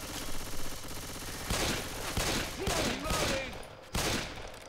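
Pistol gunfire in the zombie shooter Left 4 Dead 2, a handful of sharp shots spaced irregularly amid busy game noise and low chatter, each a loud crack over a constant background din.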